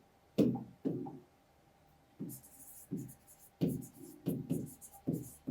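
Pen or marker writing during a Class 10 biology lecture on reproductive health, heard as several short scratchy bursts of strokes with pauses between them, close and fairly clear with no talk over them.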